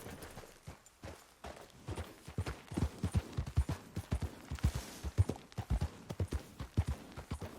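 A tired horse's hooves clip-clop at a steady walking rhythm in Red Dead Redemption 2, soft but distinct and fairly close, with no talk over them.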